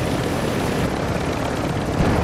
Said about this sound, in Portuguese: Eu pegou um helicóptero, vou chegar aí.